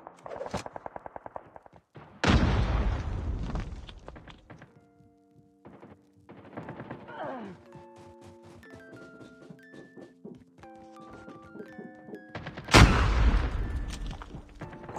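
Gunfire in the mobile shooter Call of Duty Mobile, with rapid bursts of shots at the start and near the end, a heavy impact, and in-game music and interface tones in between.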